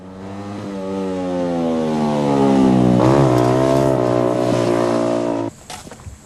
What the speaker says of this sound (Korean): 사람들의 호기심을 발동시킨 것은 다름 아닌 경주용 자동차.